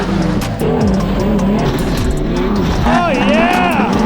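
An off-road methanol-fed blown big-block megatruck races a turbo LS Silverado prerunner on dirt; loud, continuous engine roar rises in pitch near the end, heard up close under excited voices talking.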